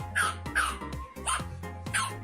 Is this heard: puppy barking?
yes